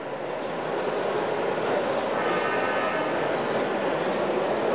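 An N scale analog DC model train runs on a passing-siding layout, producing a steady, moderately quiet rolling rumble and hiss that swells slightly midway and holds to the end.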